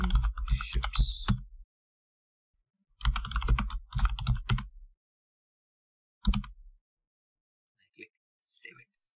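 A file name is typed on a computer keyboard in short bursts of close, crisp key clicks, separated by silent pauses, with a few faint clicks near the end.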